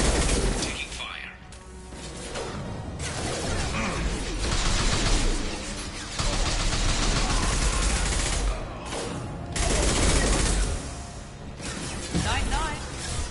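Gunfire in a Mass Effect 2 battle, dense bursts of shots and impacts rolling on and off in waves under a busy sci-fi combat soundscape, with a voice calling out over it.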